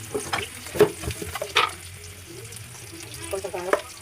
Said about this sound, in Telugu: చూడండి ఎగ్స్ బాయిల్ ఫ్రై చేసుకోవాలి